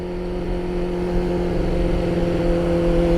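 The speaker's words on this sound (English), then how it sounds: "Machine revving, let go." Kawasaki Ninja 400 motorcycle engine held at a steady rev, a constant droning hum with a slight rise in loudness midway, close and without talk.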